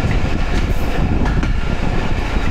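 The Bhatiapara Mail train runs through the rural countryside near Pangsha in Rajbari, its loud, continuous rumble and rail clatter filling the whole stretch up close.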